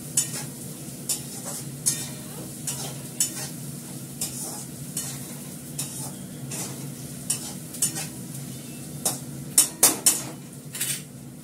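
Salted fish fries in a pan under repeated metallic stirring scrapes and utensil clinks, a low steady sizzle running beneath the louder rhythmic knocks, nearby and without speech.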